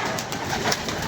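Pigeons make a short, soft burst of cooing over a steady, breathy background, heard close by with no talking.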